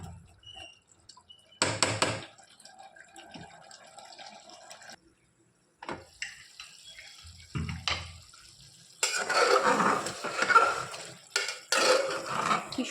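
Mutton curry is stirred and sautéed in a pan as intermittent bursts of sizzling, scraping and clattering. Loud frying hiss swells toward the end, with quiet gaps between stirs.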